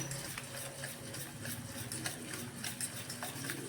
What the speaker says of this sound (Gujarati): અને ખૂબ હલાવી લઈશું આપણી ખાંડ થોડીક ઓગળી જવી જોઈએ